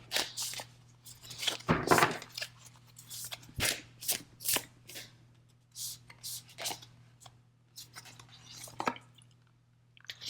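Tarot chakra cards are shuffled by hand in irregular bursts of papery riffling and soft slaps, close and fairly quiet, with pauses between, in an otherwise still room.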